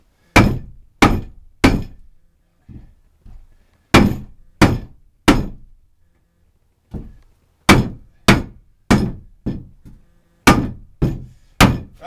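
Wooden pieces hammered into a new subfloor: loud, close, ringing blows in quick bursts of two or three, separated by pauses and a few lighter taps, with no talking.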